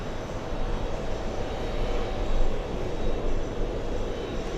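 Airbus A319 landing at JFK airport, a continuous broad jet roar that swells slightly at the midpoint, loud and steady throughout, no talk.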